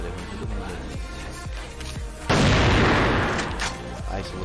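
A grenade explodes in the shooter game CrossFire, one loud booming blast that swells and slowly decays after a few sparse shots, with a voice talking around it.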